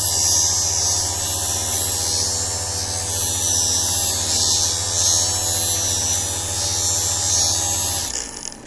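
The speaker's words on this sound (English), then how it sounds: "I'm going to start the wheel spinning, and I'm just going to roll the tip like so as the instrument spins around, and it's going to be grinding away metal" A sharpening wheel grinding the metal tip of a dental elevator, a steady high buzzing whir with a low hum running continuously for about eight seconds before it cuts off abruptly.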